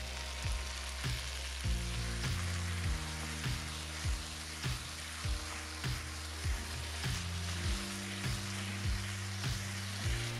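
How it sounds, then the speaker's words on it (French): Vegetables and chicken stir-frying with soy sauce for Chinese noodles, a loud constant sizzle in a hot pan punctuated by regular scraping and tossing strokes of the stirring utensil, with faint background music beneath. "Il est temps d'ajouter de la sauce soja."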